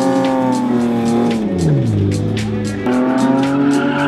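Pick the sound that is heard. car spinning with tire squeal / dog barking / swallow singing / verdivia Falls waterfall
car spinning with tire squeal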